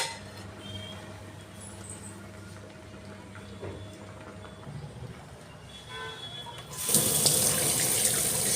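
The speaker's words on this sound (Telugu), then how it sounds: "ఇక్కడ వాటర్ ముందే వదిలేసి సింక్లోకి సో ఇప్పుడైతే గంజి అనేది పంపుతున్నాను" Tap water runs into a kitchen sink while rice starch water is poured down it, a hollow splashing rush that grows much louder near the end, alongside faint clinks and no talk.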